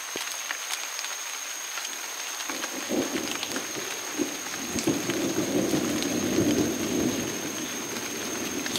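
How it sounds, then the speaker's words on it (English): Steady rain falls with rumbling thunder in a Borneo forest setting, the downpour swelling louder after the first few seconds and continuing as a dense, close wash of drops with low rolls underneath. "Raining now, guys."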